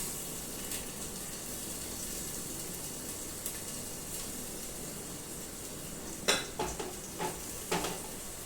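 Pepper and cumin spices frying in a pan after mustard seeds have popped, a steady quiet sizzle with a few sharp clinks of a stirring utensil near the end.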